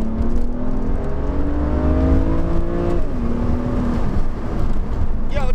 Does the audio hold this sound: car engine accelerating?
yes